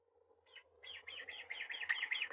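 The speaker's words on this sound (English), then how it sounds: "That sound is a bird outside," A bird outdoors gives a run of quick, repeated chirps, starting with one brief call and then a rapid series of bright notes, faint to moderate and gradually getting a little louder.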